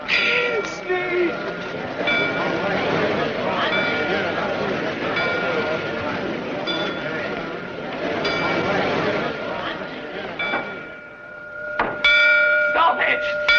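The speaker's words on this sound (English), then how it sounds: "Sneed, stop those bells!" Church bells ring continuously in an audio drama scene, steady metallic tones layered under voices and background action, with a louder burst of clanging near the end.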